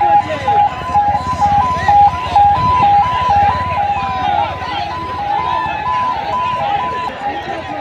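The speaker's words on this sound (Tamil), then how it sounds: "அடுத்த ஆம்புலன்ஸ் வந்துக்கிட்டு இருக்கு" An ambulance siren wails with a steady two-tone alternating pitch at a Manjuvirattu bull-taming event in Kunnathur, loud and close under excited commentary and crowd noise.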